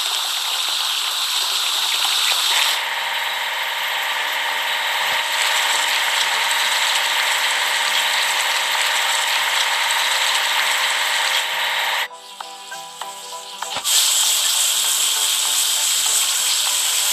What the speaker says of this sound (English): Now let's wash the grader.